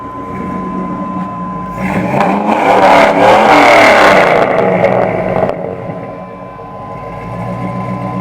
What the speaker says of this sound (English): you guys have a sound of this thing here